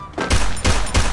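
Three heavy bursts of rapid gunfire from a shooter video game boom in quick succession, loud and close, each a dense thudding volley with short gaps between.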